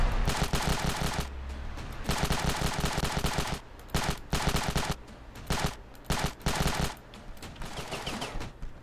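Rapid automatic gunfire from the military shooter game Ravenfield, long sustained bursts with brief gaps and some single shots, loud and close with no talking.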